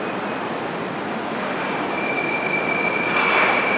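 A Moscow metro train runs with a steady loud roar of wheels on rails, a thin high whine held over the rumble, and the noise swells slightly near the end.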